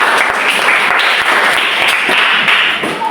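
A classroom of students claps for a student group, a dense, loud, steady burst of applause lasting about three seconds.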